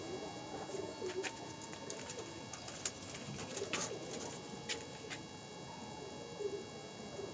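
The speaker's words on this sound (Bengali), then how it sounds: "এ হচ্ছে পায়রাটি নর, এ হচ্ছে মাদা" Pigeons coo softly in a quiet home loft. Low, rolling coos repeat across the stretch over faint background noise, with a few brief sharper sounds.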